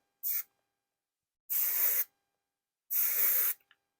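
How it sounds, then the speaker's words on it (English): Aerosol hairspray sprayed under a braided boho hairstyle: three close, loud hissing bursts, a short one followed by two longer sprays of about half a second each, separated by silence. "I'm going to grab some aerosol hairspray this time and just go underneath this to hold this up out of the way."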